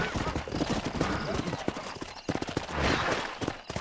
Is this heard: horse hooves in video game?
yes